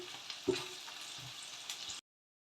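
Curry leaves sautéing in hot oil for a Kerala-style country chicken curry, a steady close sizzle with a couple of soft stirring knocks, then ending abruptly.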